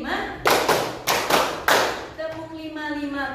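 A classroom of students claps in unison, a series of sharp, loud group claps in a steady counted rhythm, followed by a trailing tonal sound and faint room noise.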